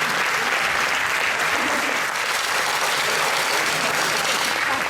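A folk concert audience at a CD presentation gives loud, sustained applause, a thick and even roar of many hands clapping close by without pause.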